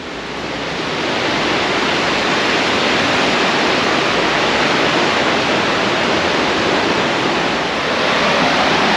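Gold Creek in Juneau, Alaska rushes steadily as a loud, close, unbroken wash of flowing water, with no voices over it.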